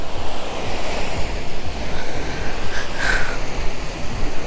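Sea waves wash steadily onto Patong Beach in Phuket, Thailand, a continuous loud roar of surf with wind buffeting the microphone and no talking.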